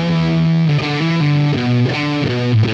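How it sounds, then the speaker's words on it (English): An electric guitar played through a Lyman Peachoid fuzz pedal with the fuzz cranked gives a thick, sludgy distorted tone, a loud riff of several sustained low notes stepping down in pitch, alone and close. "crank the fuzz knob and get a super sludgy tone"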